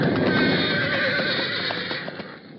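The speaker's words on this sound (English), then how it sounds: "lightning forked down from low-hanging clouds with a resounding crash that made the roan horse whinny with fear" A roan horse whinnies in fear, a loud, close, quavering neigh filling the moment, with a few hoof clops near the end.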